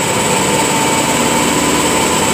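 A clothes dryer motor with a newly replaced 10 uF 450 V capacitor runs at steady speed, a loud, even high-pitched whine and hum that holds constant from start to finish with no voices.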